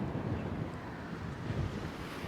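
Wind blows across a seaside garden overlooking the sea on a sunny day, a steady, fairly loud rushing gust that buffets the microphone throughout the short stretch.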